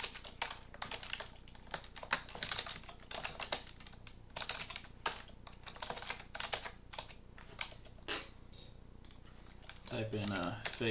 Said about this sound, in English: type in some information